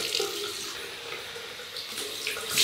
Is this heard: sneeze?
no